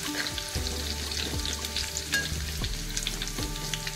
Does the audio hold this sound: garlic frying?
yes